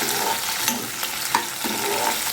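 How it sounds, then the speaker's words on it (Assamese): Chopped capsicum fries and sizzles in a pan while being stirred for a simple Maggi noodle dish, a steady broadband hiss broken by a few distinct scraping stir strokes, close and fairly loud, with no talking. "এইখিনি মই ধুনীয়াকৈ ভাজি লম এতিয়া"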